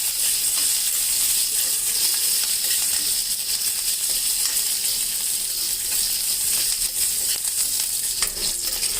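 Dry red and green chillies fry in hot oil in a pan, a loud, continuous hiss and crackle holding steady throughout with occasional light scraping.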